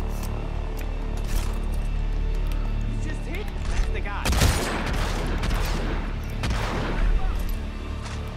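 Rapid gunfire from Hitman Absolution as the judge kills everyone: dense, loud bursts of shots that build from the midpoint and roll on in heavy clusters, with someone talking over them.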